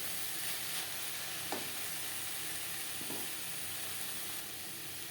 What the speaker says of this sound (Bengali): কাঁচা লঙ্কা বেশ ভালো করে মিক্স করে দেবো